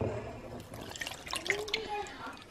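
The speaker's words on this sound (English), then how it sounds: "I'm going to pour all the wet ingredients over." Wet ingredients poured over dry ingredients and a yeast paste in a mixing bowl for bread dough, a soft liquid splashing and trickling in short bursts close by, with a person talking over it.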